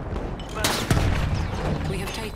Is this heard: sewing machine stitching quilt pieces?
no